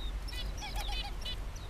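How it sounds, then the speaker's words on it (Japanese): A caged Japanese white-eye calls outdoors at a mountain pass, giving a quick series of thin, high chirps and short twittering phrases over steady background noise. "メジロ、"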